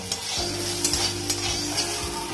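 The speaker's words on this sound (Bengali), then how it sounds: "এবার আলুগুলো তুলে নেব।" Golden fried potatoes are lifted from hot mustard oil, a loud continuous sizzle punctuated by a few rhythmic metal scrapes and knocks of a ladle against the pan, close by and without speech.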